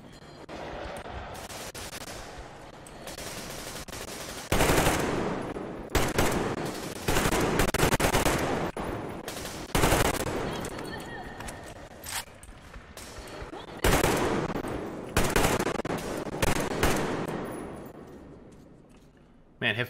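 Repeated bursts of hip-fired weapon fire in Metro Exodus, loud and close, erupting in short volleys separated by quieter stretches of ambient game sound and a voice talking.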